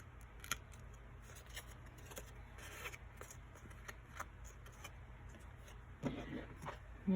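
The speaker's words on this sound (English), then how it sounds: "Yeah, that's a circle cutter." A circle cutter slices a paper circle for a handmade card, giving faint scraping and cutting rasps with small clicks, quiet and close against low background hum.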